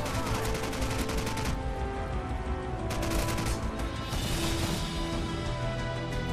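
AK-47 assault rifle firing in Call of Duty 4, dense rapid bursts of loud automatic gunfire that run almost continuously, with a brief lull before the shooting resumes.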